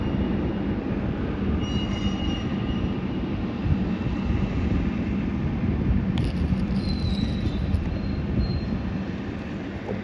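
Train pulling in at Melbourne Airport, a steady rolling rumble with a faint metallic wheel squeal, heard from nearby with no talking.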